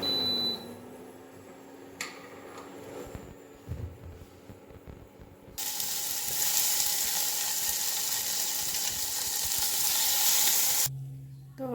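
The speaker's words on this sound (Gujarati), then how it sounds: "તો વઘાર માટે અહીંયા ઘી મૂકી દીધું છે" Ghee heats in a pan for tempering dal. After a quiet kitchen stretch with a sharp clink and a knock, a loud, hissing sizzle breaks out and holds steady for several seconds before cutting off abruptly.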